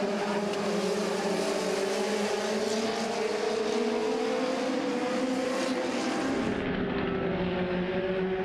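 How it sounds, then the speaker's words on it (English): Legends race cars at Southside Speedway roar past in a steady, loud pack, engines droning and shifting pitch as they pass close by, then fading to a lighter hum. "Scotty Edwards is just lapping cars left and right."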